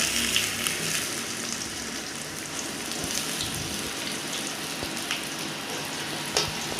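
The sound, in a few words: onions frying in oil in a kadai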